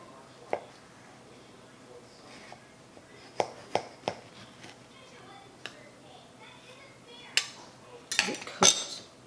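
Sharp clinks and taps of a knife against a dish while cutting into a homemade apple pie, scattered close hits over quiet room tone, ending in a busier cluster of scraping and clattering with occasional voices.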